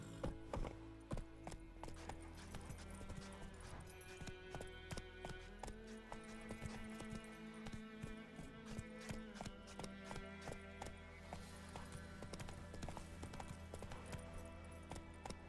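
Roach the horse gallops in The Witcher 3, a steady, rapid clip-clop of hooves close by over a constant game ambience and mechanical clatter, with no talking.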